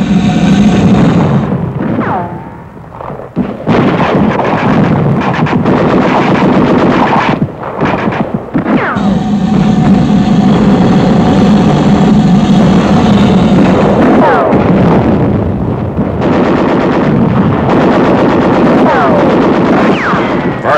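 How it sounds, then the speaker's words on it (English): Dense battlefield gunfire during an infantry assault on rugged hills, with rapid machine-gun bursts, heavy rifle shots and booming artillery layered together, loud and nearly continuous, with brief dips between volleys. "Their fire is directed at machine gun nests, which are pinning down forward units attempting to scale the rugged hills."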